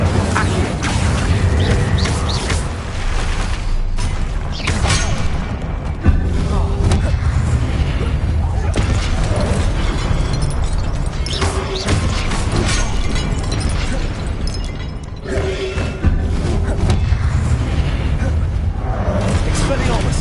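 Repeated Confringo blasting-spell explosions in Hogwarts Legacy boom and burst loudly, one after another, over continuous dense game noise with voices speaking throughout.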